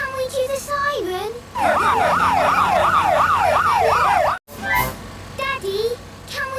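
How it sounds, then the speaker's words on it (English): Police car siren in a Peppa Pig cartoon, a loud rising-and-falling wail lasting about three seconds, with a voice heard before and after it. "Daddy, can we do the siren?"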